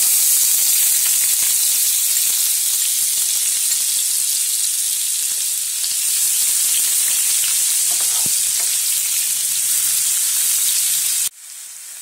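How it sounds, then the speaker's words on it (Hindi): Cumin and finely chopped onion fry in three tablespoons of hot oil in a pan for bitter gourd (karela) sabzi. A dense, continuous sizzle and hiss runs loud and unbroken, then drops abruptly near the end. "पैन में मैंने 3 बड़े चम्मच तेल गरम कर लिया है। अब उसमें ऐड करेंगे जीरा, बारीक कटा हुआ प्याज डालेंगे"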